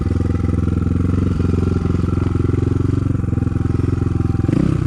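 Close, loud, steady thrum of an Izh Planeta 5 motorcycle engine, a rapid even beat that rises slightly in pitch near the end as it picks up.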